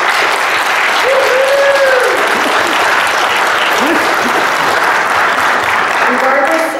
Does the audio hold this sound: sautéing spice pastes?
no